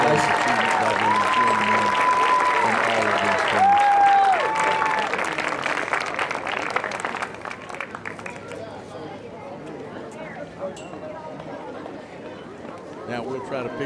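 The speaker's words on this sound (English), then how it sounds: "let's give each of these young men one more round of applause" Applause for the middle school boys' baseball championship players at an award ceremony, loud crowd clapping mixed with chatter and cheers, fading into scattered claps and murmuring.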